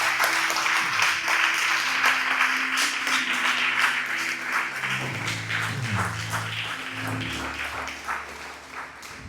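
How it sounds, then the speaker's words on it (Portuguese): A church congregation claps together at a Sunday service, a sustained wash of applause that continues under sustained organ or keyboard tones and gradually tapers. "vamos dar para o Senhor um aplauso mais uma vez, bem forte, aplaudindo o nome de Jesus"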